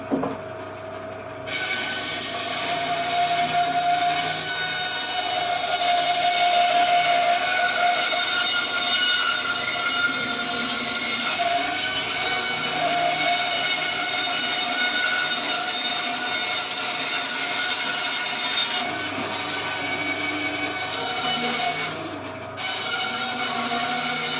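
A Leman band saw running through a cut, with a steady, loud whirring drone and grinding rasp that holds for about twenty seconds before dropping off near the end.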